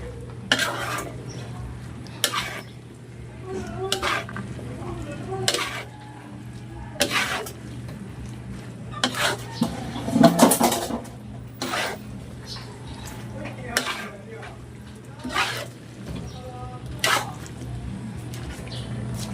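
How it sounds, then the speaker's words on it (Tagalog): A spoon stirs saba bananas with jackfruit in a metal pot, with scraping clinks recurring every second or two over a low steady hum, moderately close; someone speaks intermittently. "Medyo pag ganito po ay alaga na natin sa halo"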